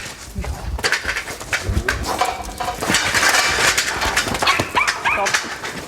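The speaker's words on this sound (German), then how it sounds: "der Hund soll bitte nicht hierher" A dog barks and yips on an organic farm, repeated close, fairly loud calls in irregular bursts among other yard noises and people talking.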